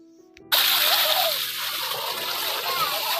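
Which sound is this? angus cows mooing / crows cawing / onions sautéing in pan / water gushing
water gushing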